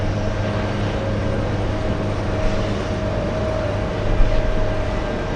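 A JetBlue jet taking off from JFK bound for Santo Domingo makes a loud, steady engine roar with a low droning hum, swelling slightly near the end.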